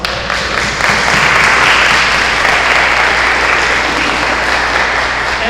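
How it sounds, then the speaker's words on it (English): A room of people at a design charrette gives a dense round of applause for the volunteer participants, loud and steady throughout with no talking over it. "So truly, they deserve a round of applause."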